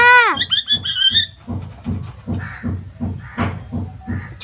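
A talking parrot squawks a quick run of shrill, bright calls for its mother, then lower, rhythmic thumping sounds pulse steadily underneath, close and fairly loud.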